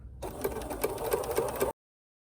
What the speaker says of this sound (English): I'm starting at the top of the pocket and I'm going to use a straight stitch.